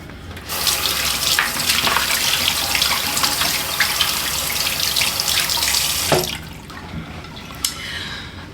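Tap water running steadily into a sink during rinsing after skincare, a close, continuous splashing gush for about six seconds before the flow stops, leaving a few drips and faint handling noises.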